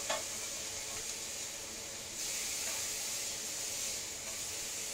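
Beef burger patties sizzling steadily in a non-stick pan as they are flipped, a continuous close hiss of frying that swells slightly louder partway through, with no talking.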